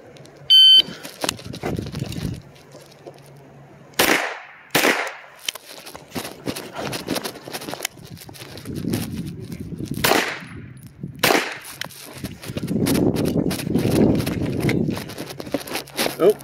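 Gunshots fired by a shooter working through a course of fire at a range, several sharp loud reports spaced a few seconds apart, with quieter handling noise and rumble between them.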